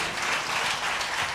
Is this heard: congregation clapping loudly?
yes